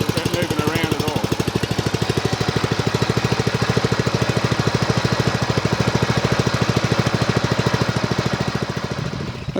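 A Greenfield ride-on mower engine runs steadily at idle after its engine bolts are replaced, a loud, even, rapid knocking pulse that holds without change throughout.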